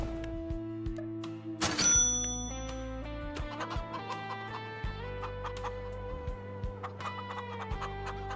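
Chickens clucking inside a hen barn in the video game Farming Simulator 25, steady soft clucks and chatter over a looping musical background, with a brief bright chime burst early on.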